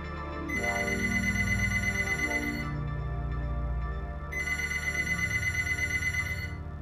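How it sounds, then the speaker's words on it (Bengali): An electronic telephone ringtone in a horror story drama: a loud, bright ringing tone plays for several seconds, drops briefly, then sounds again with no talk over it. "পরদিন ভোরে রক্তিমের মায়ের ফোন এলো।"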